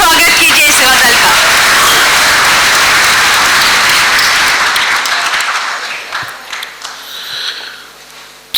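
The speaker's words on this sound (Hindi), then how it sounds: "थोड़ी सी तालियों के साथ स्वागत कीजिए इस गजल का" Audience applause at a Hindi conference at Hansraj College welcomes a ghazal, a loud, dense wash of clapping that slowly thins and fades toward the end.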